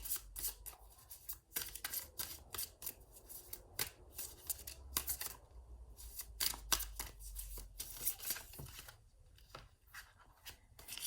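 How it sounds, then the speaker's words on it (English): A slippery tarot card deck is shuffled repeatedly, crisp riffling and slapping bursts at an uneven pace, close and fairly quiet, with no voices. "I'm trying to be as steady as I can with the way I shuffle"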